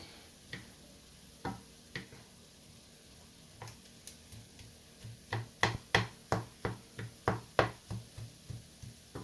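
A utensil stirs beef spaghetti Alfredo in a pan, making sharp, rhythmic scraping clicks that start sparse and become a steady run of close strokes over a quiet sizzle.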